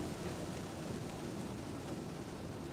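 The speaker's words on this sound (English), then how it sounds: "Raining like crazy." Heavy rain during a storm, heard from inside an Ioniq 5 electric car as a dense, steady roar of downpour drumming on the vehicle, loud and unbroken with no talking.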